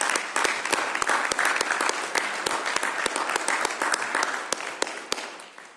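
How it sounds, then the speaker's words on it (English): A room of attendees at a city meeting gives a round of applause, a moderate crowd with sharp individual claps standing out close by, steady and then thinning slightly. "let's give him another round of applause."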